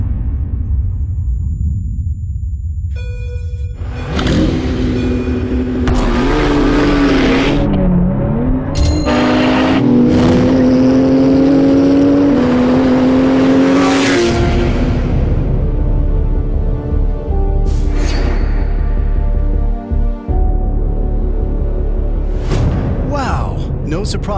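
A Porsche GT2 RS with a 3.8-liter twin-turbo flat-six accelerates hard in a race, its engine rumbling and rising in pitch through gear changes, loud and close, with a voice talking over it.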